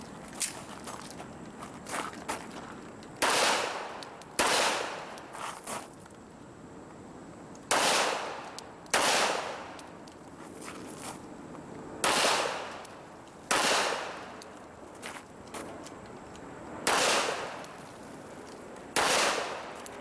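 Loud, sharp pistol shots ring out one at a time during an IDPA shooting stage, about nine reports spaced a second or two apart, over a low outdoor background hum.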